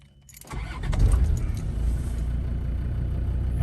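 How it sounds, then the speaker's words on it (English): A 2006 Land Rover Defender 110 TD5 diesel station wagon cranks briefly and catches, then settles into a loud, steady, rumbling idle close by. "quick view of start up and idling on this Defender 110"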